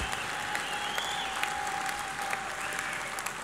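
Convention audience applause rolls on steadily for a few seconds, a broad wash of many hands clapping at moderate distance, with a faint sustained tone running underneath.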